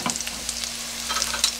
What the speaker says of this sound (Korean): 그래서 기름을 조금 넉넉히 두르고 볶으셔야 돼요.